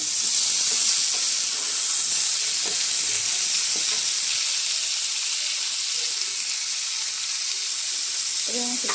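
Chopped tomatoes frying in a pan for a cabbage and potato curry, giving a continuous close sizzle and steamy hiss with occasional stirring scrapes underneath, and faint background sounds near the end.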